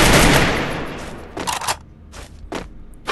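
Gunfire in the Free Fire battle royale game: an opening loud rapid burst of shots that fades, then several shorter, sharp gunshot bursts spaced across the remaining seconds.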